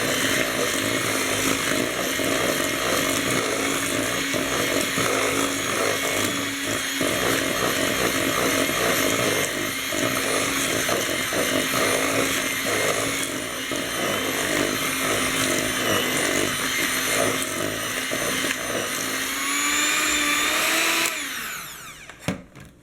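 Electric mixer beating egg and vanilla into chocolate chip cookie dough, a loud steady motor whine with rattling beaters running continuously before cutting out abruptly near the end.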